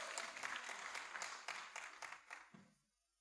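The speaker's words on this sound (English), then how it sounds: "Give him a round of applause" Audience at a preparatory school graduation ceremony breaking into a round of applause, brisk scattered clapping that fades away over about three seconds to near silence.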